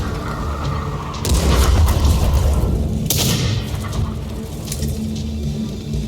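Artillery fire from a Sexton self-propelled gun in World of Tanks, heard as loud booming shots with a rumbling low end, the heaviest blast around the first seconds and another sharp report a little later, no talk.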